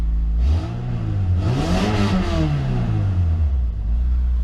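A car engine revs several times in quick succession, the pitch rising and falling in loud swells before settling back to idle.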